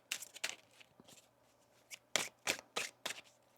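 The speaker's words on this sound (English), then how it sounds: "One more shuffle here." Tarot cards shuffled by hand in a quiet room, a run of soft riffling bursts with short pauses, the last several closer together and louder.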